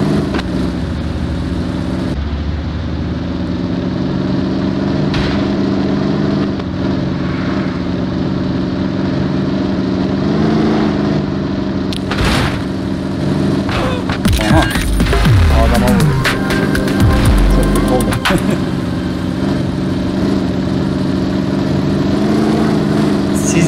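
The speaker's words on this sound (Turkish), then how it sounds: "Dışarıdaki Dodge Challenger'la gideceğiz arkadaşlar" A Dodge Challenger in the mobile game Car Simulator 2 runs with a steady mid-pitched engine drone and swells into a brief rev mid-way, loud and continuous with no talking over it.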